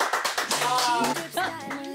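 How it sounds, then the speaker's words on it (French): A small group claps in celebration of a signing, with a few distinct hand claps under and between loud, overlapping voices. "Donc j'aimerais qu'on applaudisse, s'il vous plaît"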